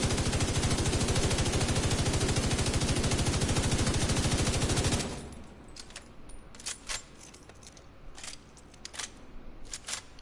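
A rapid-fire gun in a PS4 shooter rattles in a loud, continuous automatic burst for about five seconds and then stops abruptly, followed by quieter scattered clicks and clinks.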